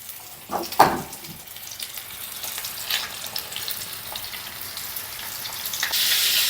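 Pork ribs sizzle and crackle in a frying pan, a few louder knocks and clatters near the start, the hiss swelling slightly toward the end.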